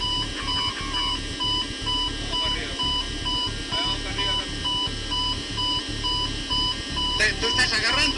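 An Aeroperu 603 cockpit warning alarm sounds as a steady series of repeating electronic beeps, running close and continuous under background noise, with a brief burst of extra chirps near the end.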